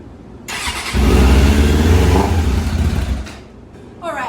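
A neglected motorcycle with bad carburetors is cranked and briefly catches, giving a loud close engine burst that revs for a couple of seconds. It then sputters and fades as it fails to keep running.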